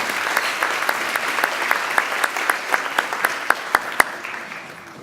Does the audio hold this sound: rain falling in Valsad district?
no